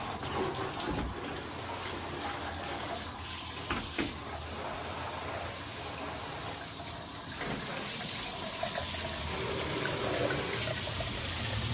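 Water running in a newly installed Delta Classic 500 stand-up shower, a steady hiss of spray with splashing and trickling, fairly quiet and continuous, with a few brief knocks along the way.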